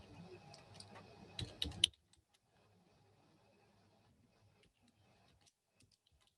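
Brief bursts of quick, light key clicks on a computer keyboard, close up, followed by near silence broken by a few faint scattered ticks.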